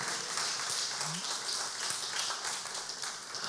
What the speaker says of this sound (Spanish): Dale palmas a Rey, apláudele fuerte entonces